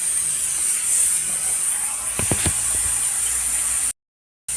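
Crushed garlic and green chilies fry in a wok for shami kebab, producing a steady loud hiss with a few quick clicks of stirring near the middle before the sound cuts out briefly.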